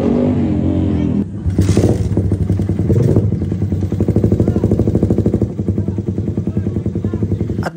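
A motorcycle engine is revved during a sound test before going onto a race track at a trackday. It opens with a steady idle, then loud rising revs and throaty blips with clattering mechanical noise.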